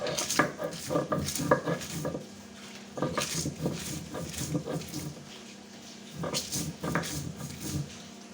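Chillies are ground by hand on a flat grinding stone with salt, giving close rhythmic rubbing and knocking strokes in several bursts separated by brief pauses.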